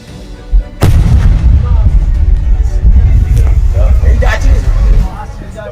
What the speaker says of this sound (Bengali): সেই বোমার শব্দে কেঁপে উঠল গোটা এলাকা ধোয়ায় ঢাকলো চারদিক